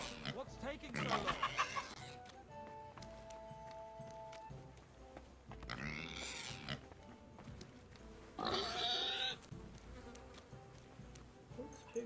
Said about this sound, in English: Those pigs are absolutely horrifying sounding.